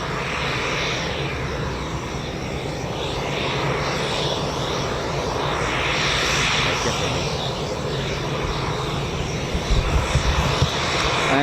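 A turboprop aircraft with a PT6 engine arrives at RAF Fairford during the Royal International Air Tattoo, its steady broadband engine roar holding loud throughout and swelling slightly midway.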